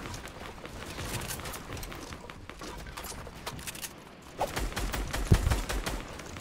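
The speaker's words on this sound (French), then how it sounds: "Ça nous tire dessus, fais gaffe." Rapid gunfire in a video game aimed at the player, sustained crackling volleys of shots at moderate distance, growing denser and louder toward the end, with no talking.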